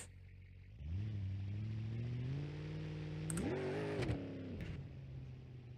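A car engine in the BeamNG.Drive game revving against a trans brake, idling low, then climbing to a steady high drone, surging sharply a second time with rattles before dropping back, moderately loud and alone.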